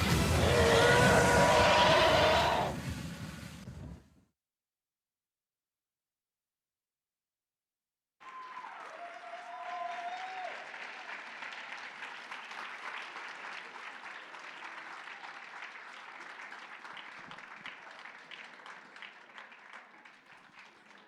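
An audience at a Japan Impact solo cosplay contest claps loudly for a contestant, then the hall goes silent for several seconds before a second, softer and more scattered round of applause continues steadily to the end.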